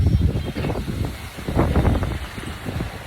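Strong wind buffets the microphone in a steady, roaring rush with gusty swells, loud and close, with no other sounds standing out.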